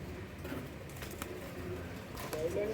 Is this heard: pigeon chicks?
yes